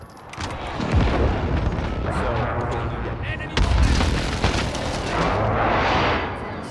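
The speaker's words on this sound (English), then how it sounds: "Enemy precision airstrike inbound. Take cover." Precision airstrike explosions in a first-person shooter video game, a series of heavy booms and crackling blasts that keep up a dense, loud roar for several seconds, with a sharp new impact partway through.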